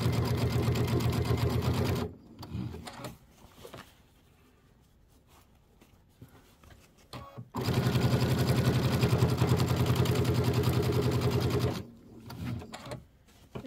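A household sewing machine stitches fabric for a Kimberbell Nativity pillow, its motor whirring in a steady rhythmic hum for about two seconds, dropping to quiet handling, then running again for several seconds before stopping.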